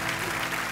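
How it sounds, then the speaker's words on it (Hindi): A brief burst of dense, continuous clapping from a TV comedy show studio audience, steady and fairly loud throughout. "मैं सोनी टीवी से रिक्वेस्ट करता हूं कि यहां पे तो यूलिया के लिए तालियां बजाई जाए"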